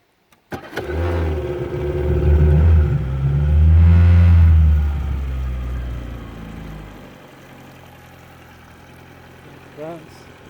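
A Yamaha 50 hp outboard motor cranks and catches, then revs up loudly and settles back down before cutting off near the end, heard up close with someone talking over it.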